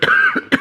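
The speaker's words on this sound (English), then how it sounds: "My cough is a mess." A harsh cough up close, a quick rough burst followed by a second short hack.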